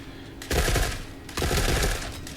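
An RPK machine gun fires on full auto in the video game Forever Winter, two loud sustained bursts of rapid shots separated by a short pause.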